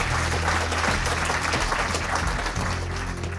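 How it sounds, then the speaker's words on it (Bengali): Sustained applause from a folk music competition audience for the musicians and mentors, a thick, even wash of clapping that holds steady for the full few seconds, with no voices over it. "তাদের সবার জন্য হয়ে যাক একটা জোরে করতালি"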